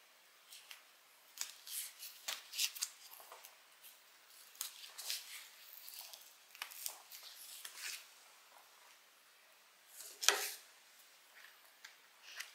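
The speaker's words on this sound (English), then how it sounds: "I'm just going to use some 1/2 inch tape along this seam" Half-inch tape is pulled and pressed along the seam of a fabric beverage bag in quiet, scattered bursts of crinkling and tearing, with one sharper rip near the end and no voices.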